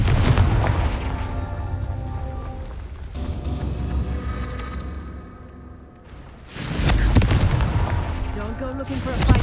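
In the Hogwarts Legacy video game, the Confringo fire-blast spell goes off as loud booming blasts with whooshing, crackling fire, heavy at the start and again in a second surge later, with a voice briefly audible.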